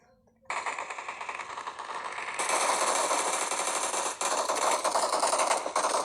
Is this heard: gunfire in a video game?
yes